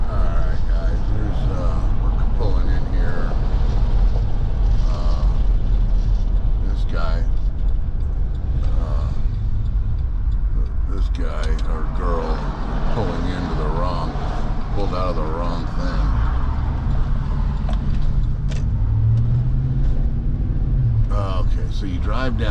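A car rolls along just off Big Bear Boulevard and pulls in, its low engine rumble and road noise running steadily underneath someone talking throughout.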